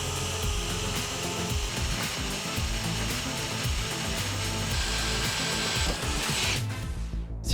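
A Parkside 12 V cordless drill-driver drills steadily through material, a continuous whirring motor hum with grinding bit noise, close and unbroken, then winds down as the trigger is released at the end.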